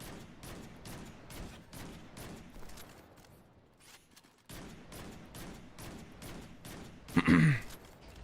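Video game gunfire in rapid, regular bursts, a steady stream of shots that pauses briefly and resumes, ending with a louder burst.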